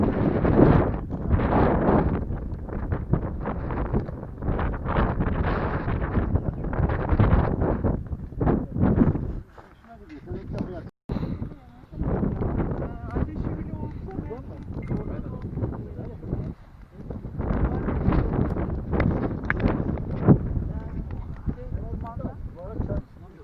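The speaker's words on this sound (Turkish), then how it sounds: "rüzgar var. Bu rüzgardan dolayı soğuğu daha çok hissediyoruz tabii ki" Strong wind buffets the microphone on a cold mountain climb at Barla, a continuous rough roar with gusts that drops out briefly midway, while people talk throughout.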